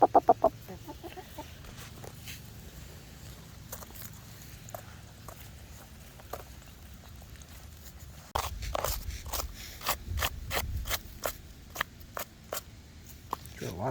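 Backyard chickens, several males among them, clucking and calling in short bursts, mostly moderate and near, with footsteps and scuffling growing busier toward the end while a person talks gently to them.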